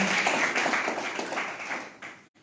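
Applause from an audience at an IMC business meeting in Rajasthan, a dense burst of many hands clapping close by that fades out after about two seconds.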